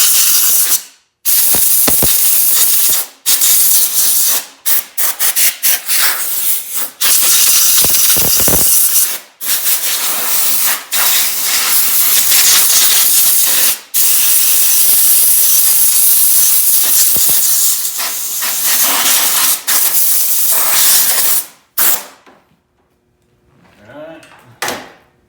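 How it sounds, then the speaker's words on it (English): Brake cleaner sprays from an aerosol can onto the carburetor of an old junkyard leaf blower, loud sustained hissing bursts broken by short pauses, close up, ending with quieter rustling. "Let's get some brake clean on there, clean up that carburetor."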